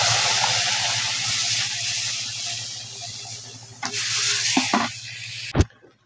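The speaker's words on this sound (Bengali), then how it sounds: "পেঁপে আর ডালটা দিয়ে দেবো ফোড়নে।" Boiled papaya and lentils go into a hot tempering for papaya dal, giving a steady loud hiss and sizzle throughout, with a few sharp stirring knocks near the end and no talking.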